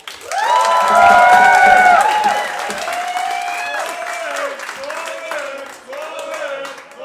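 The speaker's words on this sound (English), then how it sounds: "Got a round of applause for this gorgeous man." Cheering and applause from a pro wrestling crowd, high excited voices and whoops swelling loudly then tapering into repeated shorter shouts.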